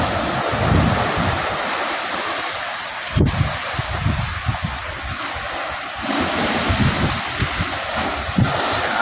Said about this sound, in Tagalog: lalaki ang alon